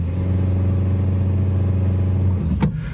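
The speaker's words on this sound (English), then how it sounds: "So I'm going to put my left foot on the brake and then give it a load of gas." A Honda Jazz with a CVT gearbox and a judder fault is held on the brake while the engine is revved hard. It gives a loud, steady, high-rev drone, then the revs drop sharply near the end with a brief clunk.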